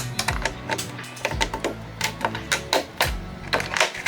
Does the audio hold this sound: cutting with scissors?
yes